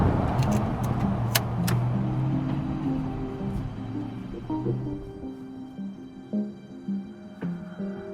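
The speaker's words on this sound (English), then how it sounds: "I think I just spun a rod bearing." A BMW E46 M3 engine with a spun rod bearing runs with a rough, uneven knocking that grows more irregular as it slows, with scattered clunks and no talking.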